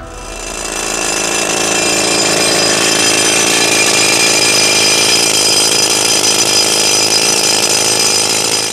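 Loud, steady mechanical rock drilling into slate in the Karwendel Mountains roars without pause, a harsh grinding buzz that holds at full strength for the whole stretch, with no voices.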